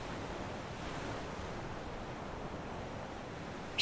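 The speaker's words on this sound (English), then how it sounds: "the sound of waves breaking on the shore." Waves break steadily on a shoreline in a continuous, even wash of surf with no distinct individual crashes, soft and moderately distant, with no voices.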